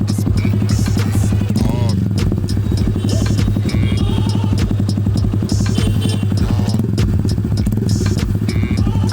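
A Honda SP 125 BS6 motorcycle fitted with an Akrapovic exhaust runs close by. Its loud, steady engine rumble and exhaust drone continue without a break for the whole stretch.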